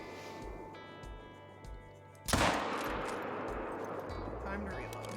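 A .45-70 rifle fires once in the hunting game Call of the Wild, a single loud sharp crack with a long rolling echo, preceded by quiet steady tones from the game.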